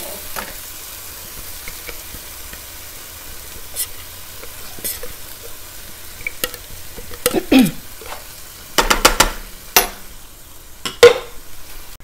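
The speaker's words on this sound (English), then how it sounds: "Now let's go ahead and add the tomato mixture in here." A tomato mixture hits a hot frying pan for pasanda curry, bringing a sizzle and frying hiss, followed by scraping and clinking stirring strokes against the pan, close and intermittent.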